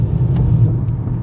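A Camaro SS V8 fitted with cheap, loud aftermarket headers rumbles steadily, heard from outside the car as a loud, deep, continuous low growl.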